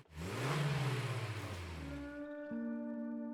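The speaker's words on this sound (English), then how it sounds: "You can still hear it revving." A truck engine revs in the SnowRunner video game, a loud rising and falling whine that settles into a steady tonal hum with a brief step up near the end.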